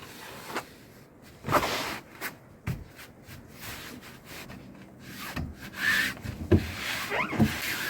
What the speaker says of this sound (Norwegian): Og så masseres malingen inn i duken.